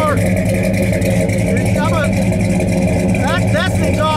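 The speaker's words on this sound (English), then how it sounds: "And now we're going to come over to the sound of the big block." A Chevrolet Impala with a 502 big-block engine idles loudly through its exhaust, a steady, deep, rumbling drone that holds without break and runs close.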